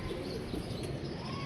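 Soft pigeon coos murmur through a steady outdoor background, fairly faint and continuous over the brief moment, with no talking.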